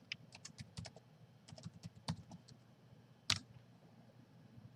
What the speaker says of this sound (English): So now let's type something.